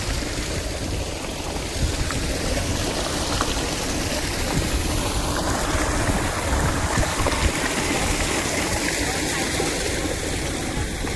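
Hot water gushes steadily from a farm borewell in winter, a close, continuous rushing splash that holds at an even level throughout.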